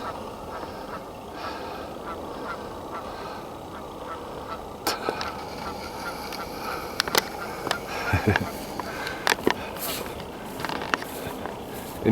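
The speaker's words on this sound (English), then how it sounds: "Oh look, we got a goose acting goofy up here." A goose near an eagle nest in Lethbridge gives a few sharp, short honks in the second half, rising over a steady outdoor ambience with faint wind and distant bird calls.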